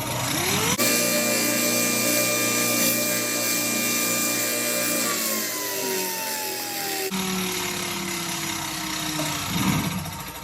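A power saw hums steadily while making a cleanup cut on a segmented wooden pen blank, its whine sagging in pitch as it bites into the wood, then a short pause and a second run that winds down.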